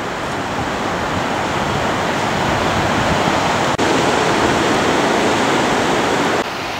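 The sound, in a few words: ocean waves and surf at Portsea Beach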